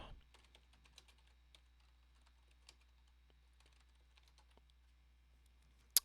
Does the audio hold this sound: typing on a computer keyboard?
yes